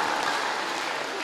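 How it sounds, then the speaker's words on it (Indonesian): A crowd at a talk applauds steadily, a dense wash of clapping from many hands at moderate distance with no break for the whole moment. "Tepuk tangan luar biasa"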